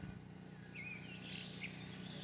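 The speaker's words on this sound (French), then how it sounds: "Les sons des oiseaux." Faint birds chirp and twitter in the distance over a quiet, low outdoor rumble, a few short calls scattered through.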